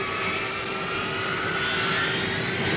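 Steady, loud jet engine roar from a Strategic Air Command bomber on its takeoff run, a continuous wash of noise with a faint rising whine, and no voices.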